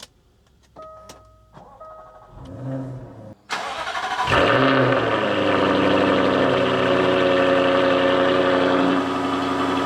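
Clicks and a brief electric whir, then a Jaguar F-Type engine cranks and roars to life, settling into a loud, steady idle close by.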